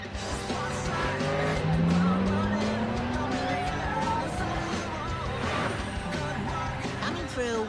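A cartoon car races along and skids with a long rising tire squeal over the engine roar, loud and close, mixed with music and voices.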